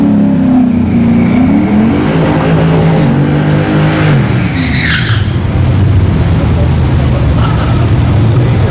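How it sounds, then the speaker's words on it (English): Turbo Yukon and a Mustang launching in a drag race at Orlando Speed World, loud roaring engines with tire squeal and rising revs as the cars pull away, an announcer's voice faintly mixed in. "He's going up against the Mustang again."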